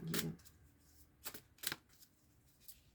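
Tarot cards shuffled and drawn by hand: a crisp riffle up front, then a few separate soft card snaps and slides, quiet and close with pauses between.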